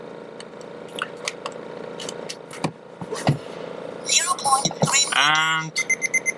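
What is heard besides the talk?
parking sensor system beeping at different volume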